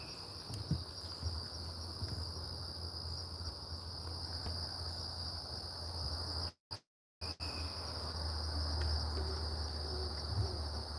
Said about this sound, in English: The great horned owl is a proper forest ninja.